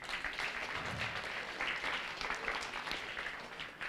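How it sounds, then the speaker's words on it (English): Audience applause for Ladder 39 firefighters at a school fire anniversary memorial, a steady, fairly quiet patter of many hands clapping for about four seconds, with no one speaking over it. "How about a big round of applause?"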